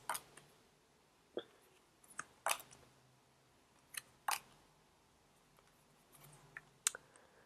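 Tarot cards laid out one by one on a table, giving a few soft, sharp slaps and flicks spaced irregularly over a quiet room background.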